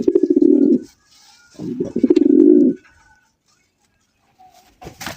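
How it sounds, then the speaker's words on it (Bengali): Large black Bombay pigeons coo close by in two loud, rolling bursts separated by brief silence, followed by a short faint sound near the end. "অস্থির একজোড়া বিশাল আকৃতির বোম্বাই কবুতর"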